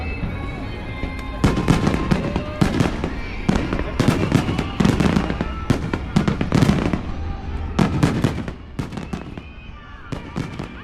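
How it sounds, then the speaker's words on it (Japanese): Fireworks launch over a lake at a Fuji Five Lakes festival, with rapid bursts and crackling bangs echoing across the water and voices murmuring in the background. "遠く向こうの対岸に見える花火は平野地区の花火だ"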